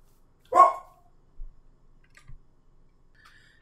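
Dog barking during a home Minecraft survival session: a single sharp bark near the start, followed by a couple of faint, brief thumps and quiet background sounds.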